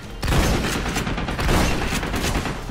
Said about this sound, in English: they're just shooting at this little barrel thing